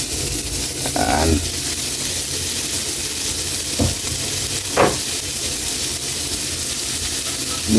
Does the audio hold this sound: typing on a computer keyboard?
no